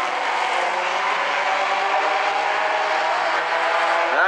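Race cars roaring around the South Sound Speedway oval during a Bumblebee A-Main, a dense steady engine drone from several cars at once, loud and continuous, with one engine note sweeping upward at the very end.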